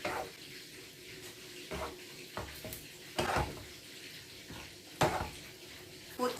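Water pours into a pot of cooking noodles on the stove, a faint, continuous splashing trickle broken by a few soft knocks of a utensil against the pot.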